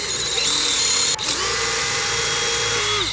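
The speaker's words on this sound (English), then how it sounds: "So whenever I drill the hole out, I wanna kind of slant it this way a little bit" A power drill bores a tap hole into a maple tree, a loud steady whine that dips briefly once before resuming, close up.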